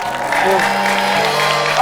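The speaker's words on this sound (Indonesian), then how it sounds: "Boleh tepuk tangan dong." A studio audience on an Indonesian television talk show claps in a short, fairly loud burst, with a voice talking over the applause.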